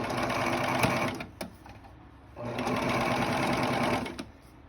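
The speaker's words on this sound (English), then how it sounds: "So I'm gonna go ahead and sew it." Sewing machine stitching fabric for a sailor bow headband, running in two steady bursts with a short pause between, close and fairly loud with a quiet break in the middle.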